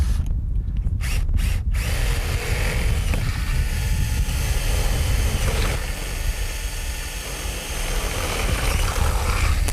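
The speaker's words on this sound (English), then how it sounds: "We're going to use a 5/8 inch drill bit to drill through the door" A power drill with a 5/8 inch bit bores through a greenhouse door, a steady close whirring grind after a few short start-up bursts, with slight strain and pitch changes as it cuts.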